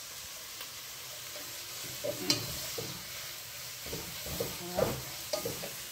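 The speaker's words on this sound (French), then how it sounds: "C'est juste histoire de bien mélanger les carottes avec les oignons qu'on a mis à la base." Carrots and onions stirred together in a frying pan, a steady sizzle broken by several scraping stir strokes that grow louder toward the end; one short word is spoken.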